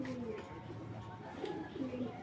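A racing pigeon, a new stone-eyed hen, gives a few soft low coos close by amid faint room noise and a voice.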